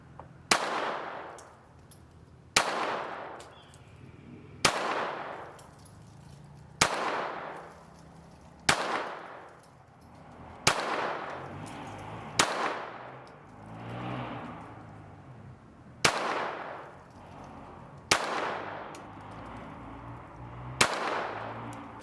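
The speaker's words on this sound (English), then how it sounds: "All 10 rounds fired flawlessly, even chambering the first round" A Glock 44 .22 LR pistol fires a full ten-round magazine, single sharp shots spaced about two seconds apart, each loud and close with a brief decaying tail.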